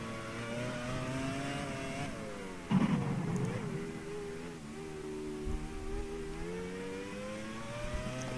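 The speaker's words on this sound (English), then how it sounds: "accelerating through the gears now" A 2002-era F1 race car in a racing game accelerates through the gears, its engine whine rising steadily in pitch, dropping at a shift, then climbing again, fairly close and steady.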